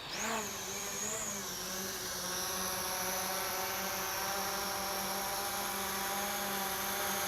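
A Snaptain SP510 drone whines as its motors spin up, the pitch rising and then holding as a steady, close, buzzing hover with layered high harmonics and no talk.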